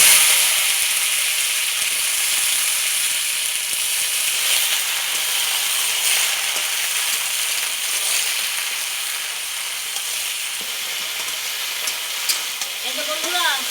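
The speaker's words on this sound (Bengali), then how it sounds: "কড়াইয়ের মধ্যে অল্প তেল দিয়ে দিলাম, একটা তেজপাতা, সামান্য একটু কালো জিরা দিয়ে দিলাম। সবজিগুলো আমি ছেড়ে দিচ্ছি।" Vegetables for a vegetarian helencha greens curry drop into a wok of hot oil with a bay leaf and nigella seeds, giving a steady, loud, close sizzle and hiss that runs unbroken throughout, with no talking.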